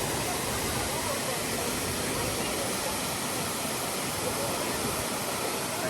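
Turner Falls, a waterfall near Davis, Oklahoma, roars with a dense, continuous rushing hiss of falling water that stays loud and unbroken throughout.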